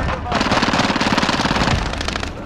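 Automatic gunfire in the battle-royale video game Call of Duty Warzone rattles out as a loud, rapid, sustained burst for about one and a half seconds before tapering off, heard close and prominent.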